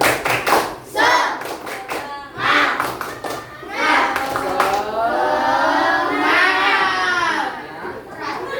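Schoolchildren in an Indonesian classroom perform a rhythmic spirit clap, bursts of group clapping mixed with children's chanting and voices, lively and close, under a teacher's talk.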